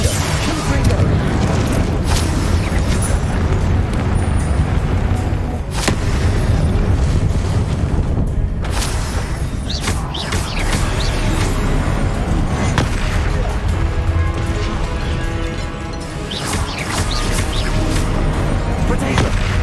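Spell explosions in Hogwarts Legacy, a continuous loud barrage of blasts, crashes and booms during a magic duel, with a voice shouting over the dense, unbroken noise.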